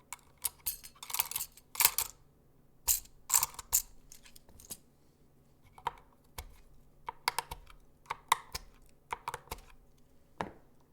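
Mechanical keyboard keys with Glorious Panda and blueberry tactile switches are typed in quick clustered bursts and single presses, crisp and close, with pauses between runs and no speech.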